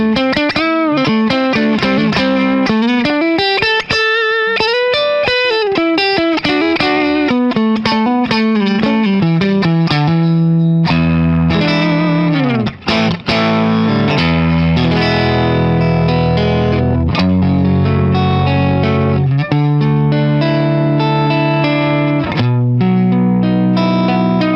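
A PRS electric guitar played through its neck pickup with the coil split, running through distortion and effects; continuous melodic lead lines and chords ring out loud and alone, without talk.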